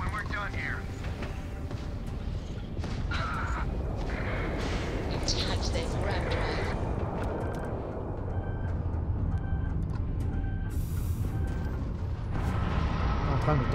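Gunfire and explosions in the Starfield video game during a hard final mission, a dense continuous roar of shots and blasts with no clear gaps, loud throughout.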